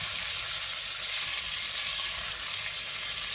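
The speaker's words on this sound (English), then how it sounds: "I'm going to add the tomatoes." Whole cherry tomatoes sizzle in a pan of pasta sauce, giving a steady, even, close frying hiss with no talk.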